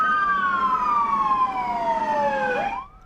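Police car siren wailing loud and near, a single sweeping tone gliding steadily downward before abruptly cutting off, with no talk over it.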